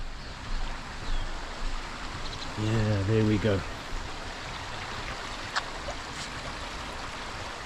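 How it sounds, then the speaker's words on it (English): A stream runs steadily near Swellendam, South Africa, under a mountain, giving a continuous broadband rush of flowing water throughout, with someone speaking briefly over it partway through. "it's just something about the sound of water that is so healing for the soul"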